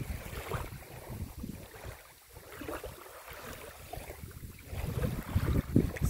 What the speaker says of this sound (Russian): Ветер сильный поднялся. Да, ветер сдувает.